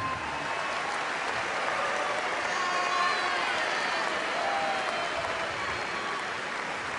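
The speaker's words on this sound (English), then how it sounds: "a nice round of applause for Dave Shoji on win number" A volleyball arena crowd applauds University of Hawaii Rainbow Wahine coach Dave Shoji after his 1,107th win, a sustained wash of clapping and crowd noise at moderate level, with voices and cheers mixed in.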